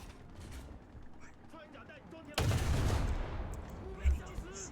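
One heavy gun blast from the War Thunder video game erupts midway and rolls into a long rumbling tail over a quiet game backdrop, with a voice talking during the clip.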